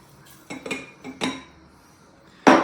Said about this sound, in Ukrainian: Додаємо все сюди до яблук і імбірю.